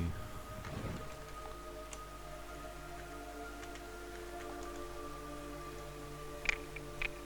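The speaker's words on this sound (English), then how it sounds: "It's raining." Steady, soft rain falls continuously in the video game Metal Gear Solid 3, with a couple of faint sharp clicks near the end and no talking.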